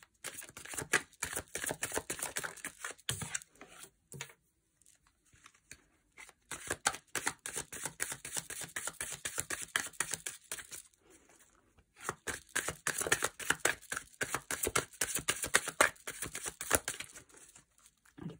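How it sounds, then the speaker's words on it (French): Tarot cards being shuffled and drawn from a deck, bursts of rapid crisp riffling and flicking close up, separated by short quiet pauses, with no voices. "Allez, on va essayer de sortir 5 cartes"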